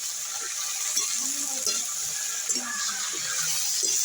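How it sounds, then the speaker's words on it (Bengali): Vegetables frying in a pan with salt and turmeric for sabudana pulao, giving a steady, even sizzle with faint stirring scrapes. "দিয়ে ভালো করে ভেজে নেবো সবজিগুলো আগে।"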